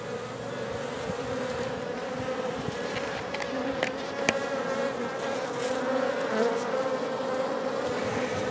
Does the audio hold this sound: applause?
no